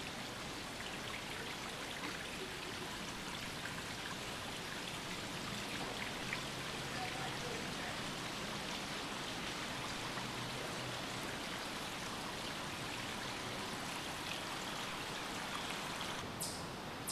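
Creek water flowing out of a culvert into the open, a steady continuous rushing and trickling wash, close and even throughout with no talk.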